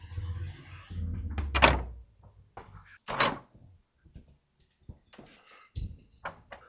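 A heavy door opening onto a courtyard of an old U-shaped building: a few sharp wooden thunks and latch clicks separated by pauses, fairly close and clear.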